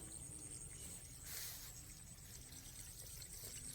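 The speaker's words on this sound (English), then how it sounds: "I can hear the water moving from one field to the next" Water flows and trickles steadily between rice fields in Roxas, Isabela, in a continuous wash, close by, with no voices.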